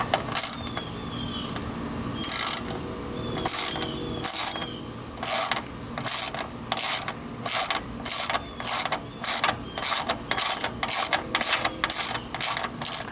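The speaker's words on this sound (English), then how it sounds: "So at this point, take our ratchet." A ratchet wrench turns a thread cleaning tap through a threaded hole, giving loud, close bursts of rapid clicking in a steady back-and-forth rhythm with short pauses between strokes.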